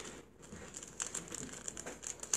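A One Chip Challenge hot chip package is pulled open by hand, giving close crinkling and crackling of the wrapper in a run of short bursts that grows busier toward the end.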